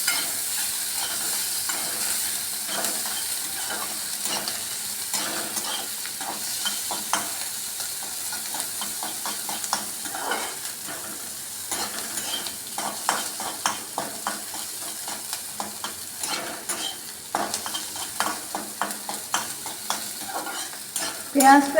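Onions sizzle in a pan while a utensil stirs and scrapes them in irregular strokes, steady and close, with no voices.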